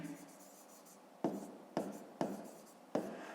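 A pen writing by hand on paper during a fifth-grade math exercise, close and quiet, a soft scratchy stretch followed by four distinct strokes in quick succession.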